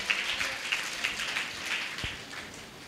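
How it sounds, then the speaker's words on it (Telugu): A church congregation claps in praise at a Pentecostal service in Guntur, a continuous crowded patter of hands at moderate volume, steady and even across the moment with no voice over it. "అందరు గట్టిగా చప్పట్లు కొడుతూ యేసయ్యకు మహిమ చెల్లిద్దామా?"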